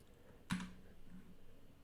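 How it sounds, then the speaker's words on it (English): A single sharp key press on a computer keyboard, the up arrow key, lands alone at close range as one crisp click, followed by faint low room hum. "I can press the up arrow on my keyboard"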